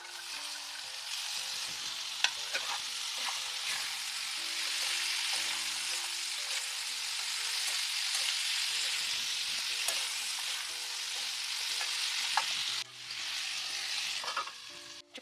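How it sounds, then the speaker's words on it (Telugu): Broad beans and salt are stir-fried in a pan for a curry with brinjal, tomato and spring onions, producing a long, even sizzle with occasional stirring scrapes and faint low tones beneath. "ఉప్పు, చిక్కుడుకాయ కూడా వేసేస్తున్నాం."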